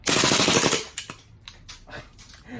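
Gas blowback airsoft Glock 34/35 pistol, a Taiwanese WE custom, firing a rapid burst of sharp cracks with the slide cycling, then a few softer clicks and rattles as the magazine runs empty, loud and close.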